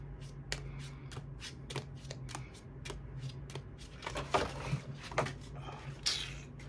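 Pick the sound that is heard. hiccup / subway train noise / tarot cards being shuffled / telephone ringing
tarot cards being shuffled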